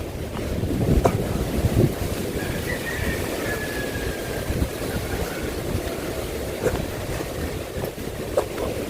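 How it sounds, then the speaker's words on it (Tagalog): Strong wind buffeting the microphone over rough sea surf, a steady loud broadband roar with gusty swells and a few sharp thumps, no voices. "Ayan yung update natin sa dagat."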